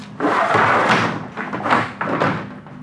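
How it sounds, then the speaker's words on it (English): Two cabinet doors swing shut during a Sleekline Yamaha installation, giving a few close, loud thuds and knocks in quick succession with no talking. "we're going to close both doors"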